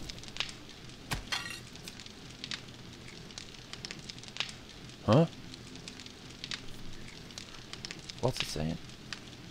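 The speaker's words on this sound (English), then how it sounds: "So he's burning wood." A campfire burns wood in the survival video game 7 Days to Die, giving a steady low crackle with scattered sharp pops throughout. People talk over it at moderate level.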